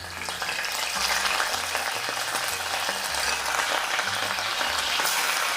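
Mutton chops frying in ghee: a dense, even crackling sizzle that runs throughout at moderate loudness, with faint stirring underneath and no talking.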